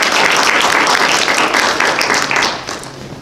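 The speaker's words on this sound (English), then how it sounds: "Everyone give a warm round of applause and welcome to Heidi Neal." An audience bursts into warm applause to welcome a speaker at a talk on music lessons: a dense, close wash of many hands clapping that holds steady, then thins and fades toward the end.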